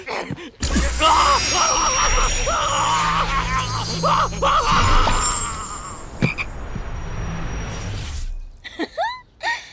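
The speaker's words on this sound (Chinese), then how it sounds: "于墨，这个蛤蟆作恶多端，猥琐至极，快灭了他！" A monstrous toad croaks and groans through a fantasy-drama fight scene, loud and close, mixed with crashes, shouts and a sudden shattering hit, ending in short strained bursts of sound.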